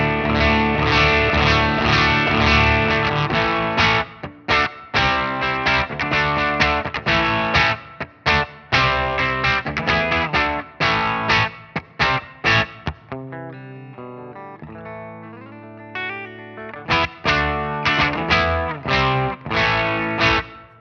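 Electric guitar played through an ENGL Ironball Special Edition amp on a boosted clean channel, giving a creamy, lightly overdriven tone with strummed chords and single-note phrases, loud and continuous with brief pauses, no talking.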